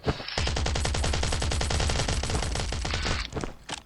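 Rapid automatic gunfire from the survival video game Last Island of Survival rattles loud and close in one sustained burst of evenly spaced shots, ending with a few scattered single rounds.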